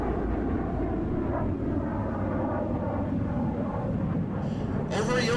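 An aircraft performing aileron rolls at a virtual air show in the DCS flight game gives a loud, steady engine roar throughout, with a voice talking over it and a brighter surge near the end.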